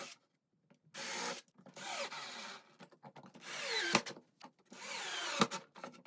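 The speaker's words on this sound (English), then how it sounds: "Just pre-drill, add some screws." A power drill pre-drills holes and drives screws into wood while a small wren birdhouse is built, making several close whirring bursts separated by short silences.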